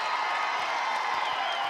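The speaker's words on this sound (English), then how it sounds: "This crowd loving every second" A packed arena crowd at a LOVB Houston versus LOVB Austin professional volleyball match cheers loudly and steadily, a dense wall of voices and whoops holding at an even level without a break.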